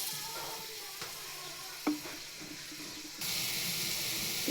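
Onions frying in oil in a wok for an egg and potato curry, giving a steady soft sizzle with faint stirring scrapes and one brief clatter, the hiss growing brighter and louder near the end.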